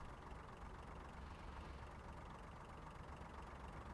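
A Class 142 Pacer railbus engine idles in a Train Sim Huddersfield Line run, a faint, steady low diesel rumble with no change across the moment.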